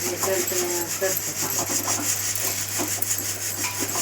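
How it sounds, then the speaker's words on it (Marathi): Flattened rice (poha) being dry-roasted and stirred in a pan for Diwali chivda, giving a steady close scraping and rustling texture throughout with a low constant hum beneath. "आई पोहे भाजून घेते पहिले"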